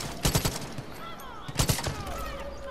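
Quiet bursts of gunfire in Far Cry 5 free roam, two short clusters of rapid shots some distance off, separated by a lull, with faint talk in between.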